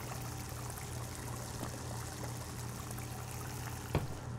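Water pouring in the video game Crime Scene Cleaner, a faint, continuous trickling stream with a steady flow throughout and a soft knock near the end.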